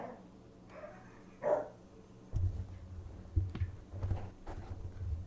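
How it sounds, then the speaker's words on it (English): Dogs bark indoors in a few short, separate bursts with some yips, heard at moderate volume against a quiet background. "I don't know why the dogs have to bark while I was streaming."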